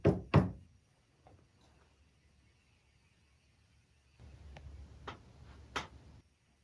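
Knocking on a wooden wall or cabinet: two sharp, loud raps up close at the start, a quiet stretch, then a few softer taps near the end over faint room noise.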